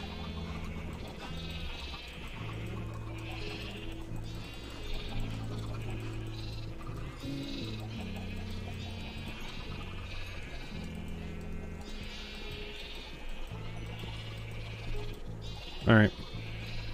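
Sheep bleat repeatedly in Minecraft, packed into a pen, with several overlapping calls near and loud over steady game music while someone talks.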